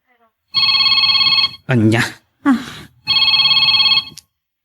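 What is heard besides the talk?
mobile phone ringtone ringing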